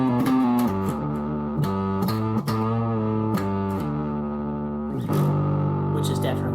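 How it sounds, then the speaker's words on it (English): A heavily distorted guitar from a recording plays chunky sustained chords and a riff with a gritty, saturated tone, loud and continuous with brief breaks between phrases. "that sounds really bad with all the distortion"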